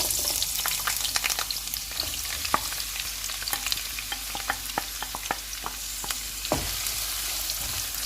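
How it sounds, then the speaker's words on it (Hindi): Sliced onions hit hot oil in a pot for a spiced mutton dish, a steady close sizzle with crackling pops and occasional spoon clinks as they are stirred. "ऑयल गर्म हो गया, इसमें प्याज डाल देते हैं।"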